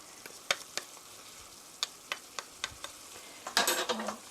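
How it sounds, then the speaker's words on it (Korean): Oyster mushrooms stir-fried with oyster sauce in a pan for a rice bowl, a soft sizzle under a series of sharp spatula scrapes and clicks, ending in a louder burst of frying and stirring. "굴소스 넣고 1미닛 1분 정도 볶아주세요"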